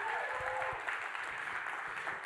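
A church congregation claps steadily and strongly together during a sermon, a dense sustained wash of applause filling the room, with faint voices underneath.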